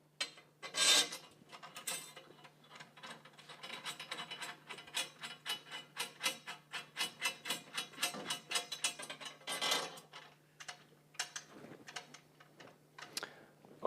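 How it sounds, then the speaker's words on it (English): Small metal tension screws being finger-tightened into drum lugs produce a run of faint, close, irregular ticking and ratcheting clicks over a low steady hum. "you take your screws, and you just finger tighten these"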